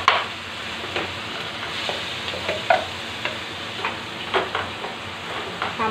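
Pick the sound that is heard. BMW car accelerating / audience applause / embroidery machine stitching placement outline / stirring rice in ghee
stirring rice in ghee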